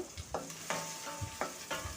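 Chopped onion sizzles in hot oil with mustard seeds and cumin, steady frying hiss broken by rhythmic scraping stirs of a spoon against the pan, close and continuous.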